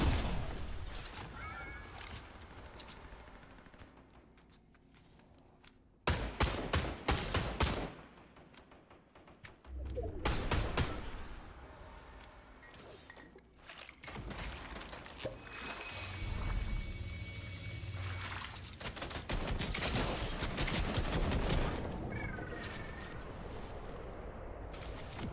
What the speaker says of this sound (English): Oh, it's somebody shooting me and her.